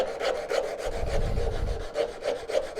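A wooden kitchen spatula blank hung off the end of a bench has its curved end shaped across the end grain, with rhythmic up-and-down rasping strokes that are close and moderately loud, with no voices.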